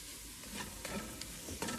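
Onions fry in bacon grease over medium-high heat with a steady close sizzle, and a few light stirring scrapes come through in the brief stretch.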